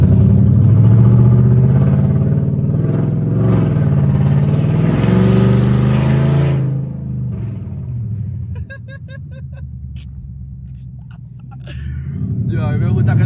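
An Infiniti M45x fitted with Nissan Titan headers roars loudly up close, the exhaust rising and falling through hard revs before dropping to a rumbling idle, with excited voices talking over it.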